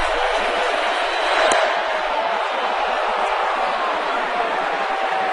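A stadium crowd at a 2010 Rangers ALCS baseball game keeps up a steady, dense roar of cheering throughout, with a brief swell early on and faint talk underneath.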